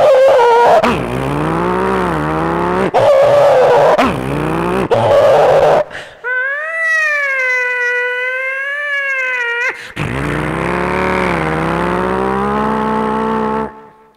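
At a Numaish mimicry show in Nampally, a performer vocally imitates a police van siren and a car chase around corners. Loud wavering wails and squealing tire skids run almost continuously, with brief breaks.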